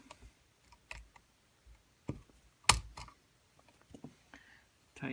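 A screwdriver tightens a terminal screw on a household wall outlet, making sparse, close, quiet clicks and short scraping ticks separated by brief pauses.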